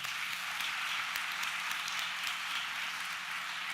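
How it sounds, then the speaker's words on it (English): Steady applause from an audience at a youth awards ceremony, dense even clapping that holds at a constant level throughout with no voices over it. "A big round of applause for them."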